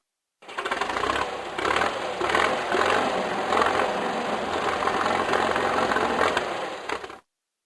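A tractor engine chugs steadily and close for about seven seconds, a dense rattling mechanical drone with fast repetitive clatter and no voices over it.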